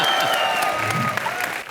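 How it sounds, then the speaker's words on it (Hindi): Studio audience applauding on a television comedy show stage, a dense burst of clapping with some music behind it that stays loud and then eases off slightly near the end. "और अब जोरदार तालियां"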